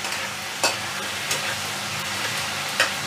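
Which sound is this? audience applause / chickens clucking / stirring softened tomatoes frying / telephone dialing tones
stirring softened tomatoes frying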